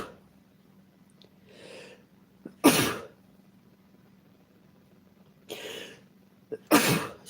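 A person sneezes and coughs up close, with two sharp explosive bursts and a couple of smaller breathy sounds before each one, set against a quiet room.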